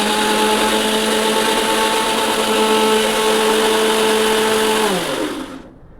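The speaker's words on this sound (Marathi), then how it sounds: "हे ना मिक्सरच्या भांड्यात टाकून घेतलं आणि आपण आता हे मिक्सरला बारीक करून घेऊया" A mixer grinder whirs loudly and steadily as it purees tomatoes, a constant motor drone that holds for several seconds before winding down and stopping.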